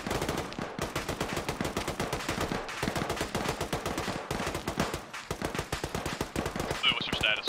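Sustained automatic machine gun fire in the military shooter game Squad, rapid dense bursts rattling almost without pause, loud and close, with a brief gap midway.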